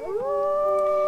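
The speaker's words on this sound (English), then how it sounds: "Oh, she's howling. I can howl back." A wolf howls in the video game WolfQuest, one long, clear, rising and then steady tonal howl, close and alone with no talk.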